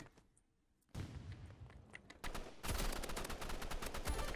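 Rapid automatic gunfire in the Roblox game Rivals, starting after a quiet moment with a burst of shots, then a dense, loud stream of repeated shots continuing to the end.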